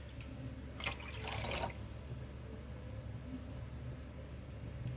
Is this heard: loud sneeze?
no